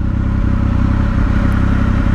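Loud, steady engine roar from a Triumph Speed Triple RS motorcycle being ridden, a continuous close-up drone with wind rush and no voices.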